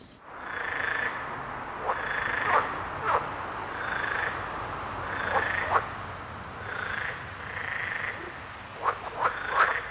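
A chorus of green frogs croaks in repeated twangy calls at a steady rhythm, some near and some farther off, over a constant high hiss.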